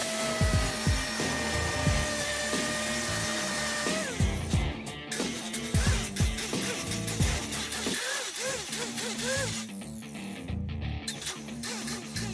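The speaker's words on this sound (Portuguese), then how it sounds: "E eu vou dar uma lixada agora aqui." Sanding a homemade motorized scooter deck, a loud continuous abrasive scraping and grinding with repeated rough strokes and brief pauses, heard close up with no talking.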